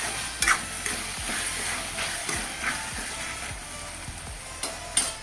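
Chicken being stir-fried in a pan hisses softly while a spoon scrapes and turns it in repeated strokes, with a few sharper clinks against the metal.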